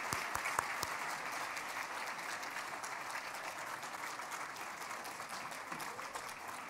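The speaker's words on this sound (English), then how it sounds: "Let's give all the nominees a final round of applause." An audience at a staff awards ceremony claps steadily for the nominees, a fairly soft, even wash of applause from a modest crowd that holds at the same level throughout.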